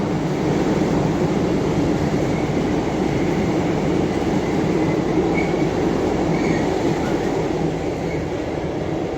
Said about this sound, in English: There's the rear end of the freight train.